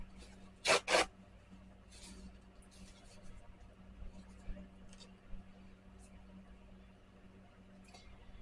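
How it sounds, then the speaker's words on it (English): Paper towel pulled and torn from a roll while making a Dorothy Polly Pocket doll craft: two sharp ripping bursts near the start, followed by quieter rustles and small handling sounds. "I just need a paper towel here."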